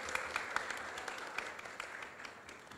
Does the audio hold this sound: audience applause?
yes